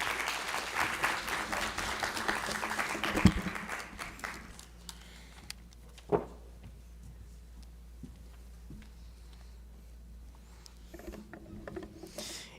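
Conference audience applauding: dense, loud clapping for about four seconds that quickly thins into scattered claps and fades to a quiet room with faint rustles.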